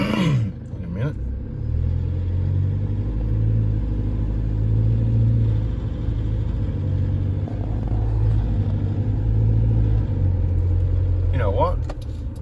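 A Toyota Hilux diesel engine idles steadily with a low, continuous rumble and a mild rattle running through it, close and fairly loud, with no talking.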